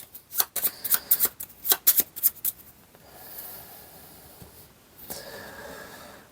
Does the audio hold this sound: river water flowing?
no